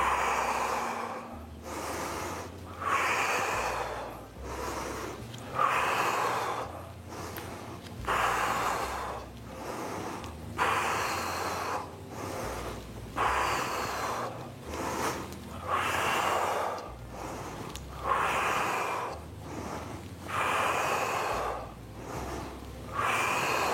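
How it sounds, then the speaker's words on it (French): Rhythmic breathing during a bodyweight strength exercise, inhaling on the way down and exhaling on the way up, with regular snort-like breaths repeating about every two seconds, close and steady with no talking. "On inspire sur la descente et on souffle sur la montée."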